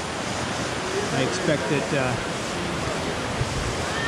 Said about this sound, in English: Got a little bit of a waterfall over here.